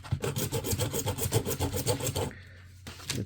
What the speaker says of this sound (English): I'm holding it in a vise, and I'm going to use one of these hacksaws to then cut.